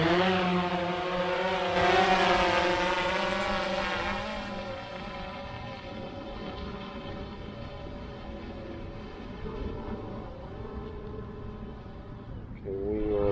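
DJI Phantom 4 Pro V2 drone lifting off in an open field, its rotors giving a steady, loud buzzing whine with stacked tones that swell early, then settle into a constant hover hum, with a brief rise near the end.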